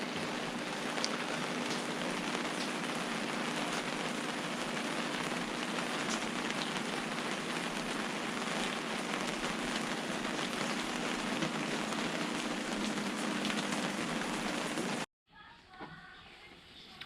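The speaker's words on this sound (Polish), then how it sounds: "trochę pada" Steady light rain patters continuously on a surface nearby, a soft even hiss that cuts off abruptly near the end.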